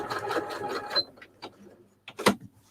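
A sewing machine stitching fabric scraps into a roll runs in quick bursts of rapid needle chatter, then stops and starts in short spurts, close up.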